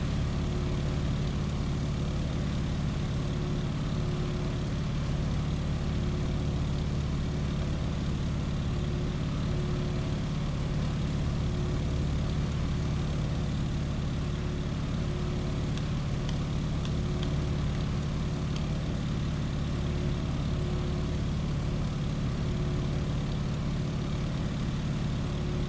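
A propeller plane climbing in slow circles over a runway in the Microsoft Flight video game, its engine a loud, constant droning hum with a low pulsing beat that holds steady throughout, with no talk.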